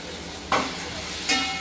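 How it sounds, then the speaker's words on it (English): Drumsticks being stirred in a pan with chili powder and coriander-cumin masala, giving a steady low sizzle with two brief louder scraping stirs, close and without talk. "Just stir it well so that all the masala coats the drumsticks."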